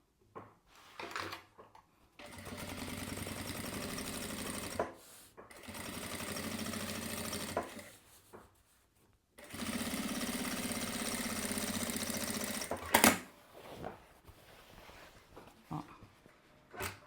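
An electric sewing machine stitches a seam on each side in two long steady whirring runs, with short pauses, handling, and a sharp clack between them.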